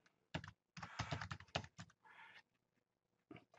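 Keys clatter on a computer keyboard in close, crisp bursts of typing, with short pauses between clusters of keystrokes and no voices.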